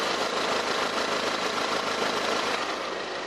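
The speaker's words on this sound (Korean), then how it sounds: "엔진 소음 먼저 들려드리면은" A 2.0 TFSI four-cylinder petrol car engine with about 50,000 km on it idles with the cabin air conditioning running, a steady, even, close-up hum with no talking.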